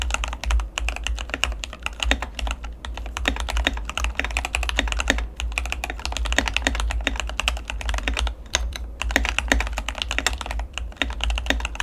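Rapid, steady typing on a Keychron K8 Pro mechanical keyboard, crisp clacking keystrokes close up, with no voices.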